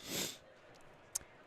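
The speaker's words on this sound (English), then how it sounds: "But if you hear a little bit of background sniffles," Single quick sniffle from someone with a cold, fairly faint, followed by a tiny click in an otherwise quiet room.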